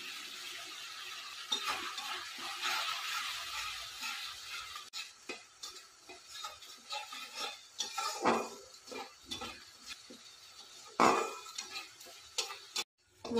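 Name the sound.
spice paste being stirred and fried in a pan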